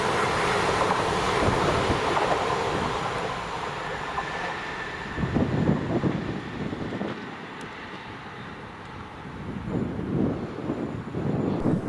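A ScotRail class 334 electric multiple unit service passes at Bowling, a broad rumbling roar that swells and ebbs with rhythmic wheel thumps and a faint high whine.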